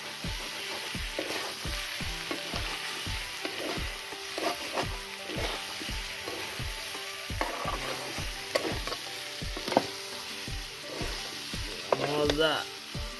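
Food frying in a pan is stirred with a steady rhythm of scraping strokes over a constant close sizzle, the spoon knocks repeating about every half second, with no talking.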